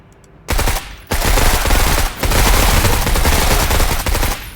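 Loud sustained bursts of automatic fire from a scoped assault rifle in the tactical video game Menace, two long volleys separated by brief gaps, close and dominant with no voices.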